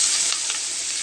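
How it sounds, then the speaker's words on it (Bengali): Chopped onion and garlic frying in oil, a brief, loud, close hiss of steady sizzling with no voices. "আমার পেঁয়াজ রসুন ভাজা হয়ে গেছে।"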